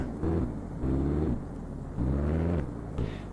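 A car in the Turkish video game Şahin Park 2 drives and maneuvers, its engine humming in a steady drone that swells in several short revving bursts, heard alone without talk.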